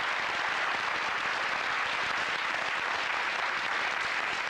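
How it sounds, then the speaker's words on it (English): Studio audience on a 1990 TV game show applauds steadily and loudly, a dense wash of clapping that holds evenly throughout with no talk over it. "Give a round of applause here, please"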